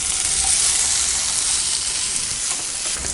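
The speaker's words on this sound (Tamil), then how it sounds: "வெங்காயம் தக்காளி நல்லா வதங்கிட்டுருக்கு." Onions and tomatoes saute in an oiled pan for a cauliflower poriyal, a loud, steady, close sizzling hiss with no voices.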